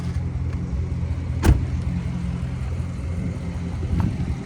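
A Dodge Scat Pack 392 cruises at 3 a.m. in the rain, its low engine hum and road rumble steady and near. There is one sharp thump partway through, and no voices are heard.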